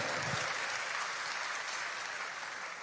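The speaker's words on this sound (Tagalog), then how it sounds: "Tuloy niyo yung palakpak." A church congregation applauds continuously in a broad, steady wash of clapping that fades slightly toward the end.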